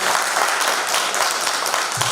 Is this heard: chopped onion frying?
no